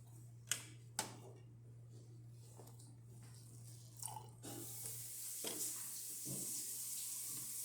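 A couple of sharp clicks and ticks, then a hissing stream of hot water pours steadily from a DeLonghi Magnifica espresso machine, with a low electrical hum underneath.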